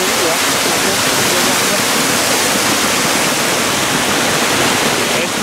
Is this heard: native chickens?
no